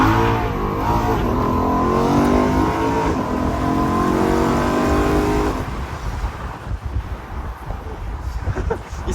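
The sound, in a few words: BMW M3 E93 engine accelerating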